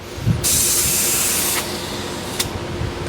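A spray paint can held upside down to clean its nozzle gives a loud, close hissing burst of about a second, followed by a quieter tail and a short second puff.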